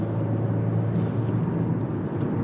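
A Genesis EQ900 sedan accelerating, heard from inside as a steady, loud low engine and road drone that stays even with no sharp changes.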